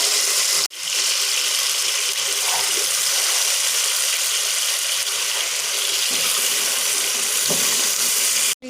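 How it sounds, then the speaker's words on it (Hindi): Meat frying in spice masala for a broken-rice beef biryani, a steady loud sizzle and hiss that runs almost unbroken, with a brief break near the start and end. "अब मसाले में डालकर अच्छे तरीके से इसको भूनेंगे।"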